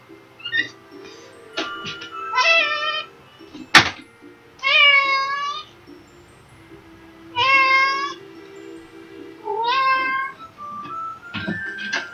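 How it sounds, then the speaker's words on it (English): A pet cat stuck up high cries to be let back down, giving about seven loud, drawn-out meows in an irregular series, close by, with a sharp thump partway through and quiet gaps between calls. "my cat's crying to get back down"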